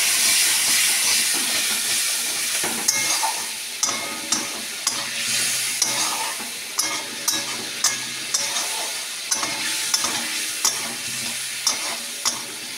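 Vegetable curry stirred in a pan with a little water added, a steady hissing sizzle broken by a run of regular scrapes and knocks of the spoon against the pan, close and fairly loud.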